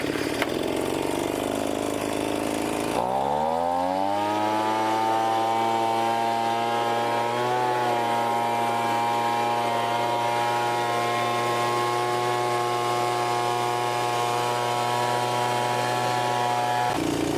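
A Wild Badger gas-powered leaf blower starts up after a few seconds, its two-stroke engine rising to a loud, steady, buzzing whine that holds constant close by, with a slight wobble in pitch partway through.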